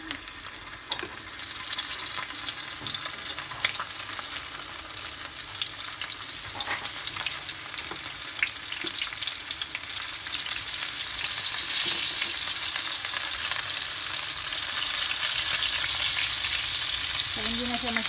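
Fish frying in hot oil in a pan, a steady dense sizzle and crackle running throughout with small pops, close and continuous, no talk over it.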